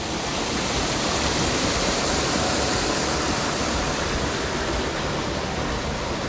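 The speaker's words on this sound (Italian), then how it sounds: "riattraversiamo il fiume davanti alla cascatella e via" River water rushes steadily past a small waterfall on a mountain trail in the Monti Gemelli, a dense, continuous roar with no pauses, loud and close.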